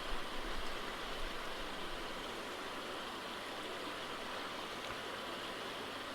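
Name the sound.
water filling an aquarium filter chamber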